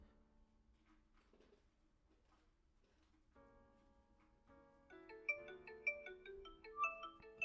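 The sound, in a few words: phone ringing on incoming video call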